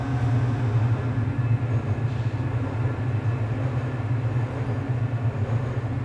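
The automated Black Mesa tram from Half-Life, recreated in Unreal Engine 4, gives a steady low rumble and rolling drone, constant and fairly loud with no voices.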